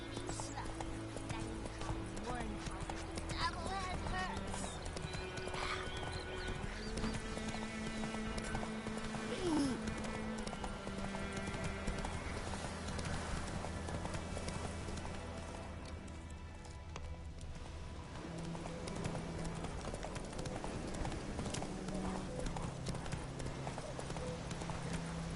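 Roach, the horse in The Witcher 3, gallops in fast, rhythmic hoofbeats that run steadily throughout, with a brief whinny, other game sounds and a spoken command layered over them.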